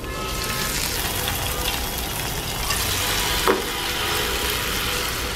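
A whole fish fries steadily in a pan on a stove, giving an even, close sizzle throughout, with one brief clink or scrape midway as the lid is lifted and the fish is turned.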